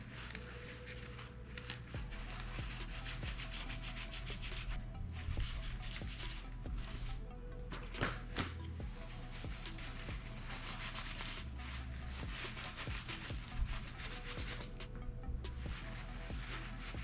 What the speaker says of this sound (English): So we're going to wipe all that down and wipe the inside of the chassis here off